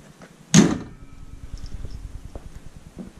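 A 2017 Ram 2500 truck's hood slams shut once with a sharp, loud thud, followed by a quiet idle-like rumble and faint clicks.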